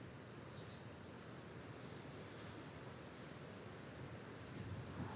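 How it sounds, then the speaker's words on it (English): Steady broadband wash of ocean surf rolling in on the coast of Portugal, with wind noise over the microphone and a slight swell toward the end. "look at this wave coming in"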